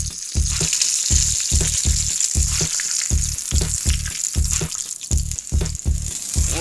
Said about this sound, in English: I'm just going to grab it by the siphon here and lower it into the oil